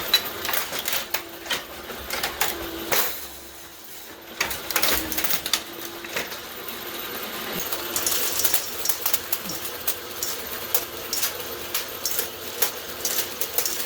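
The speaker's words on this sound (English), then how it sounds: "It's transferred into the casting portion of the machine." A typecasting machine cycling in a print shop gives off a busy mechanical clatter of rapid clicks and taps over a steady hum, continuing without a break and fairly close.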